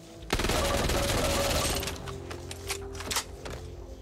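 Vector submachine gun in the video game Back 4 Blood fires a dense, rapid full-auto burst near and loud, then trails off into a few scattered, softer shots.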